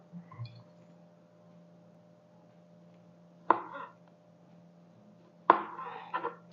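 A knife cuts ripe banana into pieces for Kerala pazham pori, two short crisp chops several seconds apart in a quiet room, the second followed by a small extra tap.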